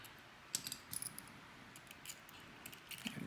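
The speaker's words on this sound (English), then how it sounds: "we'll just get our screwdriver out and straighten that up" A handheld screwdriver loosening a screw, then turning it back and tightening it down, gives small scattered ratcheting clicks and metal-on-metal ticks, close and quiet, with no voices.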